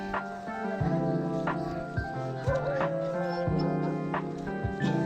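Several dogs bark and yip in short bursts, with some whining in between, close by and fairly busy, with people talking over them.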